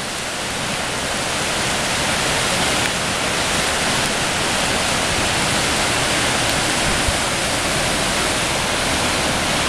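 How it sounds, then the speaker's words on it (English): The Appomattox River, overflowing its bank near a bridge, roars with a loud, unbroken rush of water, a dense wash of noise that stays steady throughout and has no voices over it. "And the river is overflowing its bank."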